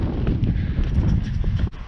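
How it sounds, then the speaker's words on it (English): Strong gusts buffet the microphone on a countryside footpath walk, a dense low rumble that swells and dips without pause and drops briefly near the end. "Anyway, getting windy. You can see it's very windy."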